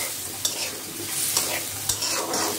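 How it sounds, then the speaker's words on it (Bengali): Potatoes being lightly sautéed in a pan, a hissing fry under several quick scrapes and taps of a spatula stirring them, close and moderately loud. "এই যে আমি এখন আলুটাকে হালকা কষিয়ে"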